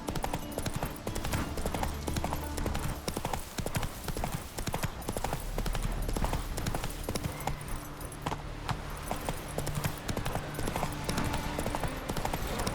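Hooves of Roach, the horse ridden in The Witcher 3: Wild Hunt on PS5, clip-clop in a steady, continuous trotting rhythm, close and prominent over the game's background ambience.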